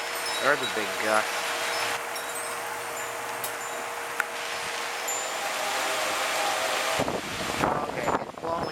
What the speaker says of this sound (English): Whoa, there's a big gust.